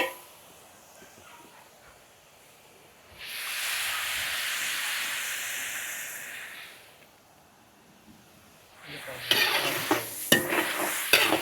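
Garlic, onion and liver sizzle in a wok for lomi, a loud hissing sauté that swells for a few seconds, drops back, then returns with sharp stirring scrapes near the end.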